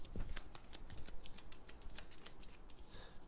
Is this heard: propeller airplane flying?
no